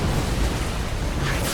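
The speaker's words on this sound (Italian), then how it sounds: "Vediamo questa esplosione" An explosion in the video game Far Cry 4: a dense, continuous roar of broadband rumble that holds at a steady, loud level throughout without breaking off.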